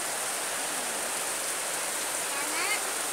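Steady hiss of rain falling during an afternoon downpour, a broad continuous wash that stays even throughout, with a faint voice briefly audible near the end.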